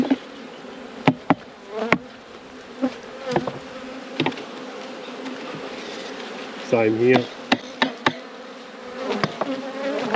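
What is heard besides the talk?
honeybees buzzing around hive frames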